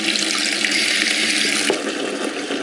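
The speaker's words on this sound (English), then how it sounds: "Hot water in the sink," Hot water runs steadily from a tap into a sink, a continuous loud splashing rush with no voices.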